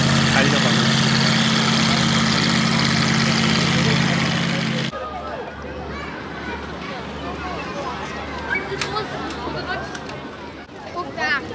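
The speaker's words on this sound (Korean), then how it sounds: "모터포트는 원하게 물줄기를 가르며 마인강을 달려가고 있습니다." A motorboat runs along the Main river during a riverside summer festival. A loud, steady engine drone fills the first part, then drops to a quieter rumble with water and crowd noise as people talk.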